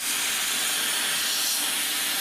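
A homemade mini multiple rocket launcher fires with a loud, steady, rushing hiss that holds for a couple of seconds without letting up. No one speaks.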